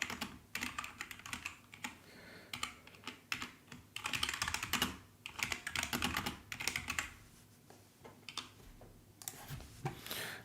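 Someone types on a computer keyboard while writing a personalized email, a close, fairly quiet, irregular patter of key clicks in bursts with short pauses, with no talk.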